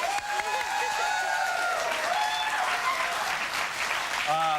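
A talk show studio audience keeps up a steady, moderate wash of applause that never swells, with voices talking over it throughout.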